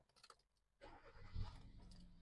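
A 2017 Hyundai Creta's engine cranks and catches after a brief quiet pause, then settles into a low, steady, fairly quiet idle rumble, recorded close by with faint clicks beforehand.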